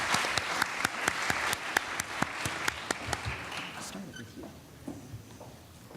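Audience at an all-candidates debate in the Cowichan Valley claps; distinct sharp claps ring out in a loose rhythm, fading out, with a voice speaking over the tail.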